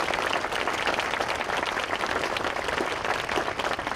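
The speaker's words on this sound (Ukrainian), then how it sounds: "Давайте оплесками привітаємо" Sustained, dense applause from an audience at a forum of local deputies, steady and loud throughout with no break, the clapping blending into an even roar.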